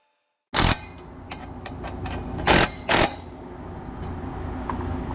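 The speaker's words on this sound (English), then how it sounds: "here I go with the impact wrench, and I'm just gonna go through and tighten things up." An impact wrench tightening exhaust bolts during a 3-inch exhaust install on a 2020 Ford Explorer ST fires in three short, loud bursts, with faint clicks and a steady hum in between.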